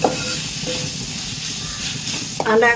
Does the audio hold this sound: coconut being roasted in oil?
yes